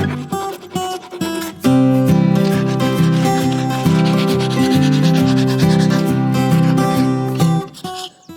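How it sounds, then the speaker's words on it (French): A wood file rasps across freshly cut timber posts for a polycarbonate carport, with loud, steady back-and-forth strokes and a gritty, ringing edge for several seconds before it stops. "je vais juste finir un petit peu à la lime à bois"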